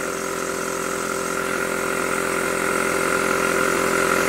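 A scratch-built rotary valve model engine runs on compressed air, giving a steady, fast mechanical hum with a faint airy hiss that holds even throughout, close by, with no one talking.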